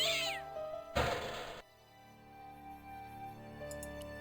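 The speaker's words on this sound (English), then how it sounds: "A scary cat." A cat yowls and meows from inside a trash can in the point-and-click game Broken Sword: Shadow of the Templars, one sharp loud screech followed by a faint trailing tone, close and alone with no talk.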